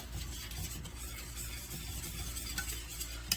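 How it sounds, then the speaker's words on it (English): Creamed spinach being stirred in a pan while milk is added, a soft continuous rubbing and scraping with faint sizzling, close and quiet, without talk. "Keep stirring. Keep adding milk."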